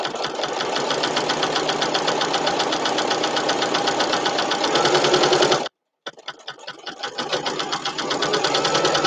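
A sewing machine stitches a quilt-as-you-go potholder with a steady, rapid mechanical whir and chatter, loud and close, stopping briefly for a moment before starting up again.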